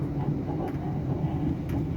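Steady low rumble inside a moving XPT passenger train in Australia, a continuous moderate drone with a couple of faint clicks and no voices.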